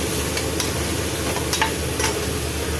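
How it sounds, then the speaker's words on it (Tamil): Green chili, ginger and garlic paste sautéing with onions in oil for a biryani, giving a constant close sizzle broken by a few scraping stir strokes, with no voices. "இப்போ நம்ம அரைச்சி வச்சா பச்சை மிளகா இஞ்சி பூண்டு பேஸ்ட்டை போட்டுடலாம். இதை கொஞ்சம் வதக்கிக்கலாம்."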